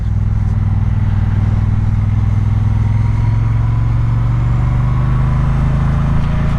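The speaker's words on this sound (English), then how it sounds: "you'll get a good idea of the acceleration and the noise as well. Nice and gentle, just in first gear," Triumph Speedmaster motorcycle pulling away gently in first gear at about 20 mph, a steady loud low engine drone with a throbbing rumble throughout, heard alone without talk.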